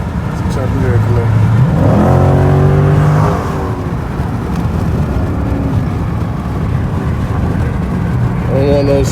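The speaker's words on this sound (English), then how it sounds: "check out little Camaro SZ trying to go." A Chevrolet Camaro SZ accelerates nearby with a rising engine whine that then eases off into a steady road drone, as a second rise begins near the end. A voice talks over it.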